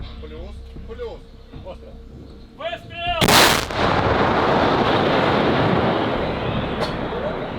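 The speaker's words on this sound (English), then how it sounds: "Now the crew are back in the tank and they're about to open fire again." A single heavy Ukrainian tank cannon blast booms out in a forest after some faint voices, followed by a long rumbling roar that keeps filling the air.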